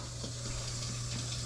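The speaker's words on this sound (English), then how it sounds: "I did forget to turn the water back on." Water runs steadily from a kitchen tap after the supply is turned back on, a constant close hiss and rush with a low hum underneath and no voices.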